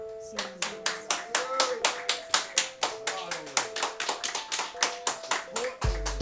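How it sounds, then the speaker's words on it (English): Audience at a freestyle rap event claps in a loud, regular rhythm, sharp individual hand strikes repeating about three or four per second, with a voice and low thump at the end. "I want everybody to clap as hard as you can"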